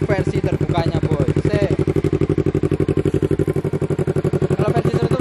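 A two-cylinder Yamaha Vixion idles with its aftermarket Engker exhaust fully open, producing a loud, close, steady chugging pulse with a rapid even beat and metallic clatter.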